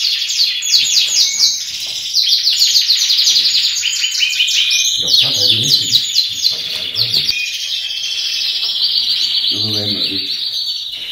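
Canaries chirping and singing at a breeding setup, dense rapid trills and tweets from several birds filling the whole stretch, loud and close.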